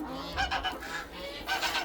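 Geese honking loudly nearby, several overlapping nasal calls in quick succession over a couple of seconds, with no talking.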